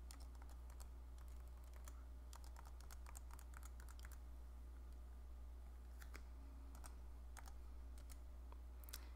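Scattered keystrokes on a computer keyboard, entering tag numbers into dairy herd management software, faint clicks in irregular bursts over a steady low hum.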